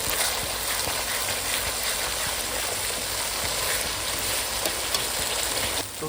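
Spice paste fries in hot oil for an aar fish curry, giving off a loud, steady sizzle and crackle that continues without a break, close up.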